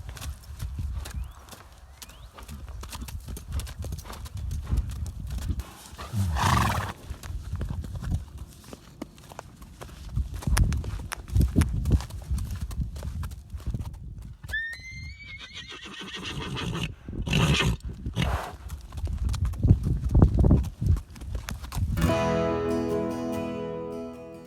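Hooves of a stallion clip-clop at an endurance ride, steady near footfalls that build over time, with a horse whinnying partway through and louder rustling toward the end.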